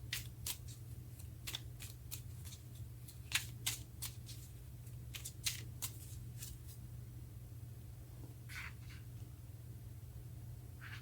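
Tarot cards riffled and shuffled by hand in quick, crisp bursts over a steady low hum, with a pause near the end before a couple more soft flicks; no one speaks.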